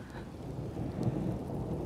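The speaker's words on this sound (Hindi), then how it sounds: "बारिश बहुत ज़्यादा है" Heavy rain pours steadily in a broad, continuous hiss with low rumbling underneath during a downpour in the Kahuta hills, and no voices are heard.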